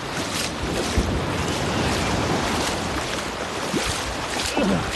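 Steady wash of small waves on a beach at Veules-les-Roses close by, with wind buffeting the microphone and occasional splashes and knocks.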